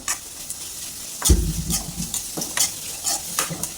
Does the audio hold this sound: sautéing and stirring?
yes